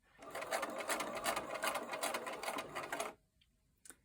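A sewing machine stitches along the bias edges of a fabric star, a steady close whirring hum with rapid needle ticking for about three seconds before stopping, then a single faint click.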